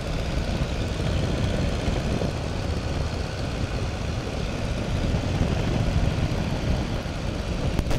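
Steady, loud drone of a Tiger Moth biplane engine and propeller heard from inside the cockpit in flight, continuous and unbroken throughout with broadband wind rush.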